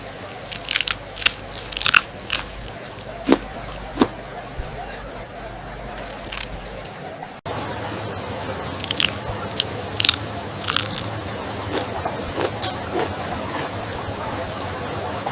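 Crispy seasoned shrimp bitten and crunched close to the mic, with a run of sharp crunches early on, then denser steady chewing and crackling. Speech can be heard in the background.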